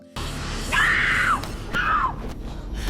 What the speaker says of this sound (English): Then Bianca screams, making the audience question how believable she is as a villain.